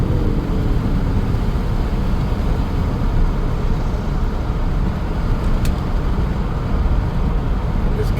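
A 1997 Chevrolet K1500 pickup with a 5.7L Vortec V8 coasting with its transmission stuck in third gear, a steady low road and drivetrain rumble heard from inside the cab, with no rise in engine revs.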